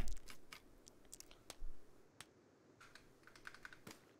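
Computer keyboard keys pressed while playing the survival game Sons Of The Forest, a series of scattered clicks and taps at irregular pace, close and fairly quiet, with no talk.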